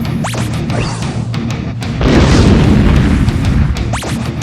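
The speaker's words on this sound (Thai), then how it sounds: "กองทัพครับช่วยส่งยานรบมายิงระเบิดนิวเคลียร์ใส่มันหน่อย" A loud, rumbling explosion swells into a sustained roar of crashing debris, with sharp whooshing sweeps cutting through at the start and end.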